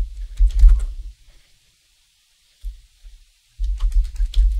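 Keystrokes on a computer keyboard while a command is entered on an Ubuntu system: a burst of close, crisp clicks, a pause, a brief tap, then another steady run of typing.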